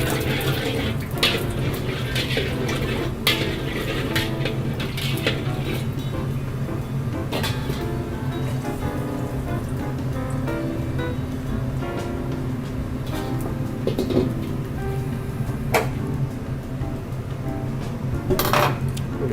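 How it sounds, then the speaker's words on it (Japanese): Minced seafood stir-fried in oil in a restaurant wok while cooking mapo tofu, with clanks and scrapes of metal utensils against the pan over a steady sizzle, and faint voices in the background. "分量外の油、鍋に引いてもらって、で、魚介のミンチをさっと、まずは香り出すために炒めていきます。"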